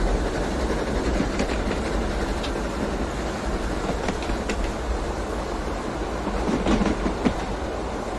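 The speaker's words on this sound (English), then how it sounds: "the train is going back and forth" A train rolls steadily along the rails with a dense, loud rumble, faint rhythmic clacks rising now and then.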